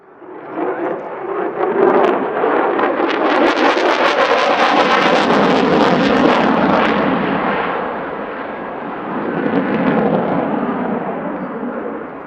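Polish Air Force F-16 fighter jet flying at an air show, a loud sustained roaring jet engine rumble with crackling bursts that swells and holds for the full pass, then eases slightly before surging again.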